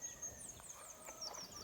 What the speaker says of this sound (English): that's the hen there. The rooster over there